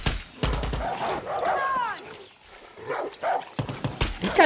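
A dog in Far Cry 6 yelps and whimpers in a few short, close, high-pitched bursts, mixed with scattered gameplay clatter.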